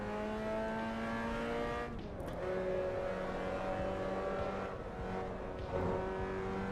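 A race car engine revving in the racing game Assetto Corsa EVO, held at a steady high pitch with tonal harmonics. The revs dip briefly as though shifting, then climb again, moderately loud and without speech.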